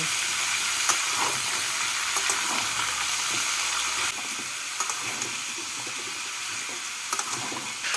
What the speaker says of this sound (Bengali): সবজিগুলোকে এক মিনিট মতো নাড়াচাড়া করে নিলাম